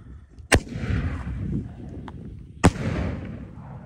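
Two sharp, loud reports from a 4 inch coconut firework shell, each a crisp bang followed by a fading crackling rumble, a couple of seconds apart and heard from a distance.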